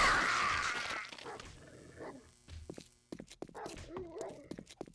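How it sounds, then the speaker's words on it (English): Several dogs bark and yip in the 7 Days to Die survival game, close and fairly loud at first, then scattered shorter yelps and whimpers over background noise. "Oh, I hear a couple of dogs."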